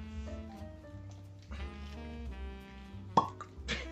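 A cork pops out of a genever bottle with a short sharp pop near the end, preceded by soft squeaky twisting and a second, fainter pop just after, over a quiet tonal background.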